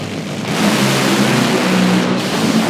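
Drag-racing cars launching at an IHRA Outlaw Nitro Series qualifying session. The engines burst into a loud, sustained, close roar that holds steady for a couple of seconds.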